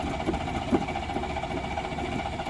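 A 1967 Rambler American's AMC 199 ci six-cylinder engine runs just after starting, a steady close rumbling idle with a constant mechanical hum.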